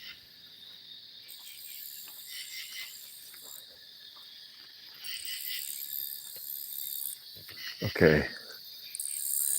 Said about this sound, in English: I think it's a bug, but it's no cricket. It's just loud.